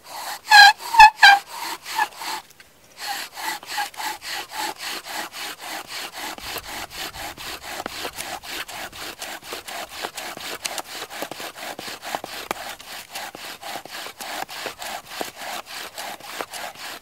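A wooden bow drill spindle rasps back and forth in quick, even strokes as it burns into a wooden board, close and continuous, with one brief pause early on before the steady rhythm resumes.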